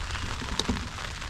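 Steady rain pattering on the fabric of a pop-up hunting blind, a dense close hiss with a faint tap or two.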